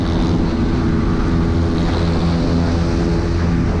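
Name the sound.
Suzuki Raider FI motorcycle engine while racing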